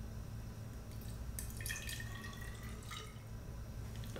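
Distilled water poured into laboratory glassware for a citric acid solution gives a faint, brief trickle and splash in the middle of a quiet, steady room hum.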